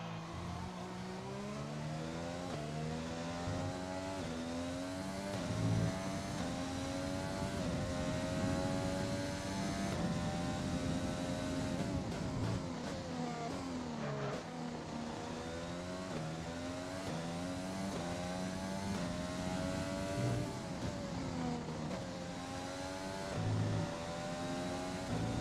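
A Formula 1 race car engine in the F1 2020 game screams continuously at high revs, the pitch climbing through gears and dipping briefly on downshifts before rising again, loud and close throughout with no voices.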